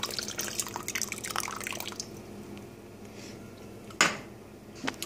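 Vinegar being poured into hot milk pulled off the heat at 185 degrees for homemade ricotta, heard as soft dripping and trickling liquid with a few light splashes and a sharper clink near the end, close and fairly quiet.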